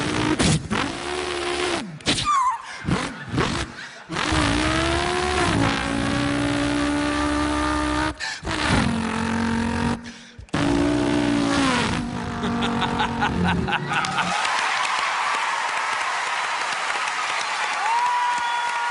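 A person vocally imitates a V8 car engine, producing long revving, rising and falling engine-like tones in loud sustained stretches with short breaks, followed by clapping at the end.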